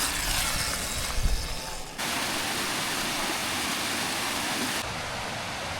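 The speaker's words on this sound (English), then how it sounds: "Beautiful waterfall in the mountains." Mountain waterfall on a hike near Big Almaty Lake in Kazakhstan, a steady broadband rushing roar that holds continuous and fairly loud throughout, with a brief louder surge near the start.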